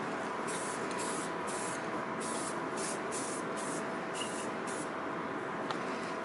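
Paint sprayer coating an FPV antenna mast in a masked-off room, a steady close hiss running the whole time with a slight pulsing texture and no talk.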